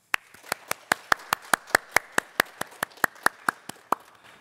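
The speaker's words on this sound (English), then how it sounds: "let's all give the graduating class of 2020 another round of applause" One person claps alone, close up, for a virtual 2020 high school graduation commencement: about twenty crisp, evenly spaced claps at a steady brisk rhythm, with nothing else heard.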